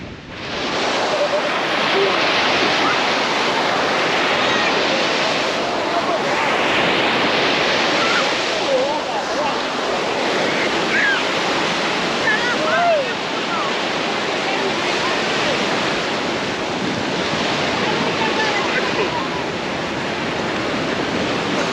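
Sea surf washing steadily onto a Balkan beach on a hot day, a continuous loud broadband rush of breaking waves close by, with some wind buffeting the microphone and no talking.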